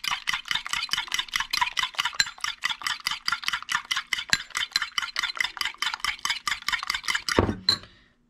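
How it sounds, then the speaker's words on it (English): Scrambled eggs are stirred in a pan with quick, steady, rhythmic scraping strokes, close and clear with no talk, ending in a single heavier knock. "I just continue to stir until it gets to a consistency that I like"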